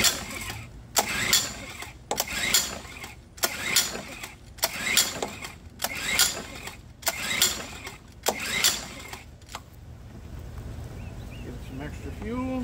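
A Mercury 7.5 outboard motor, unstarted for 14 years, being pull-started again and again: about seven loud rhythmic cranking bursts with short gaps, then the pulls stop and only faint mechanical noise remains.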